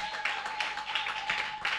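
A church congregation applauding steadily, dense claps filling the space with a sustained wash, with a faint steady tone running underneath.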